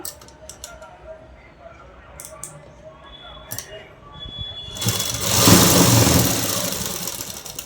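A sewing machine runs a burst of stitching along the seam of a festival dress, its motor whirring up loudly near the end after quieter handling noises and brief clicks at the start.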